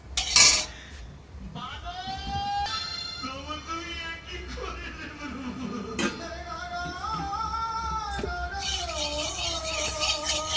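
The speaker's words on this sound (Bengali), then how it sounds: "কড়াটা আমি বসিয়ে দিলাম।" A kadai wok set down on a kitchen stove, a sharp metallic clank at the start followed by scraping and light rattling of metal cookware, with someone talking over it.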